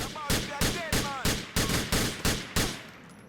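Steady rhythmic gunfire in Grand Theft Auto 4, about eight evenly spaced loud shots over a few seconds, each with a short ringing tail, alone without talk.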